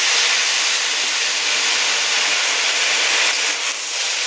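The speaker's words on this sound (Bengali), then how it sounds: "এরপর এখানে আমি দিয়ে দেবো পরিমাণ মতন সয়া সস।" Soy sauce hitting frying chowmein with egg and vegetables sets off a loud, continuous hiss of steam and sizzle, very close and steady, easing slightly near the end.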